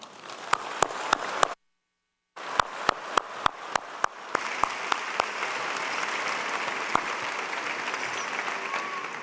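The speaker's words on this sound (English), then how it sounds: "Please join me in congratulating them with a round of applause." A graduate school summer commencement audience claps in a sustained round of applause, with sharp individual claps standing out near the microphone and a brief dropout before the clapping resumes and swells.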